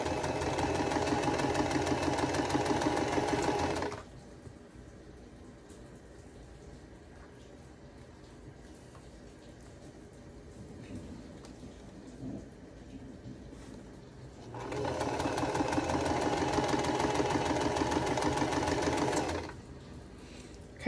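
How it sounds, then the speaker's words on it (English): A sewing machine stitches small quilt block pieces of stash fabric, running in a loud steady whir for about four seconds, pausing, then running again for another five seconds with faint handling sounds in between. "we're going to be sewing from the opposite direction"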